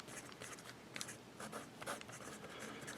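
Franklin Christoph 19 fountain pen with a 1.9 calligraphy nib and Noodler's ink, scratching steadily across paper in close, quiet strokes with brief pauses between letters.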